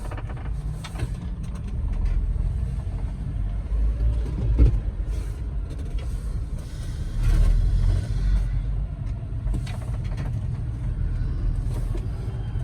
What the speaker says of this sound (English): I'm just gonna do a little drive around this parking garage